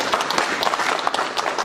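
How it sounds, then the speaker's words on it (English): Applause from an audience at a business and trade gathering. Dense, steady clapping runs through the whole short burst at a close, even level, with no talk over it. "A big hand of applause, gentlemen."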